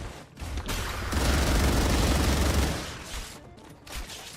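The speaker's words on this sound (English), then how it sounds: "This gun actually has like a reasonable amount of recoil, and it's actually really fun to shoot." Sustained automatic gunfire from a gun with noticeable recoil in the video game StarRupture, a dense loud burst of rapid shots building and rolling on for a few seconds before tapering, with no talk over it.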